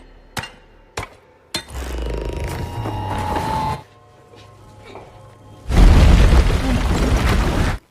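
Blasting charge bursts open an escape hole in a cave wall, a thunderous, noisy roar of rubble that follows a few sharp metallic knocks and a rumbling stretch, loud and close at the end.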